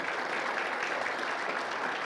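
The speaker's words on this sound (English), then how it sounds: "Let's give her a round of applause for all the hard work she does." A church congregation applauds in appreciation of a staff member, a brief, dense burst of clapping that stays loud and uniform throughout.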